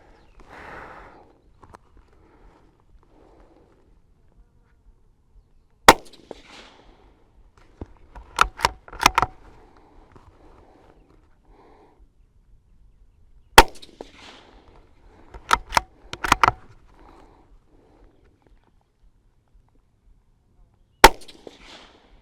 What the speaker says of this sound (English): I just took a couple of shots on that big piece of steel to see where I need to hold in this wind